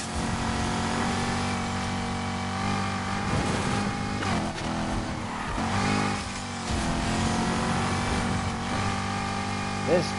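Sports car engine in the racing game Need for Speed Heat, a sustained droning rev with rising and falling pitch sweeps, heard under someone talking over it.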